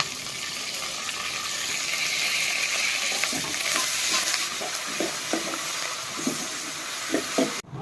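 Green chillies and curry leaves crackle in hot oil for a Diwali chivda tempering, a loud steady hiss of frying that settles into softer sizzling with light stirring scrapes, close and without talk.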